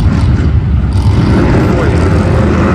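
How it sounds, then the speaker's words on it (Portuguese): A Harley-Davidson Fat Boy motorcycle with a stage 1 upgrade approaches, its loud, deep engine rumble rising and holding steady close by, with a brief hiss of air noise above. "Tá vindo o Anchieta ali com a Fat Boy, que terminou de fazer o stage 1 ontem."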